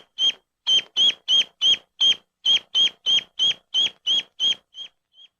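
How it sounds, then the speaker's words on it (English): A duckling in an imprinting experiment gives its distress call after its toy is taken away: about fourteen loud, evenly spaced high peeps, close and alone, trailing off into two fainter calls at the end. "The duck sounds the distress call and searches for the object."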